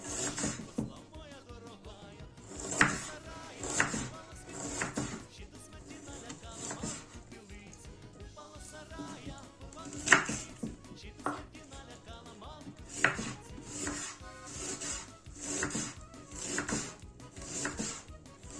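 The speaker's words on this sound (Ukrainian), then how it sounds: "І тепер тоненькими шматочками нарізаємо цибульку." An onion is cut in half and sliced into thin pieces with a knife on a board. Soft, fairly regular cutting taps repeat throughout at low volume, with no voices.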